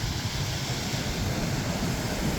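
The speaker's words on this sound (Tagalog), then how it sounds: "Kaandar pa pala yung makina na yan." A boat engine idles steadily at close range, a continuous low rumbling drone with no break and no talk over it.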